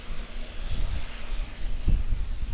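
A Qantas Boeing 737-800 airliner lands at Auckland Airport, its engines giving a steady, broad roar with low rumbling and a couple of heavier thumps, heard from a distance with no talking.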